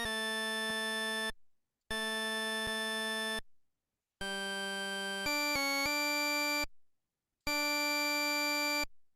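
A synthesized chord progression left unresolved, with four sustained, bright, buzzy chords separated by short silences and a brief quick change of notes partway through, close and steady.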